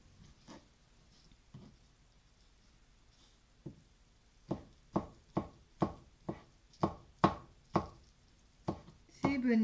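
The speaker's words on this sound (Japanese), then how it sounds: "ちくわも細かくします" A knife chops chikuwa fish cake finely on a cutting board for a tofu ganmodoki recipe, about ten sharp, evenly spaced knocks coming quickly after a few scattered taps, close and clear with no talking.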